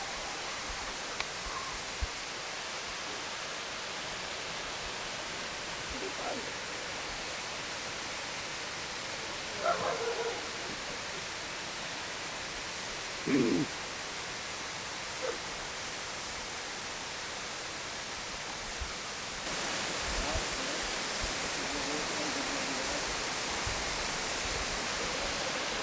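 Waterfall in Bhutan, a constant broadband rush heard from a distance, steady throughout with a few faint thumps and rustles, growing slightly louder toward the end.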